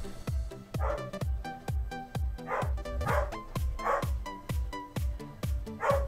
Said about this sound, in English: you're probably going to hear my dog in the background